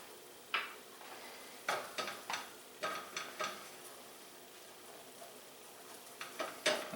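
Flour is stirred into softened onions in a pan to build a roux for red-eye gravy, with a low sizzle underneath and a series of distinct scraping and clinking strokes of a utensil against the pan, close and fairly quiet.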